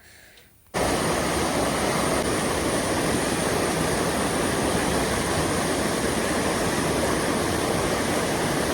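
Loud rushing water roars in a steady, dense wash close by, bursting in suddenly after a brief quieter moment and continuing unbroken with no voices.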